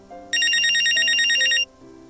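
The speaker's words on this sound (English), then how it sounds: "Hope it is alright if I answer my phone?" A mobile phone ringtone chimes loudly in a repeated bright melodic pattern for just over a second during a business meeting, standing out clearly over a low background hum.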